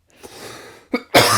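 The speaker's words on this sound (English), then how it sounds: "Sorry, I don't mean to cough." A short, sharp cough bursts out near the microphone, followed by a louder forceful cough after a faint breathy lead-in.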